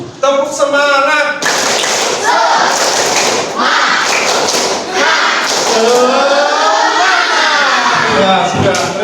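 A group of people doing the Indonesian 'tepuk semangat' spirit clap, loud rhythmic hand claps mixed with chanted voices and shouting, close and energetic throughout.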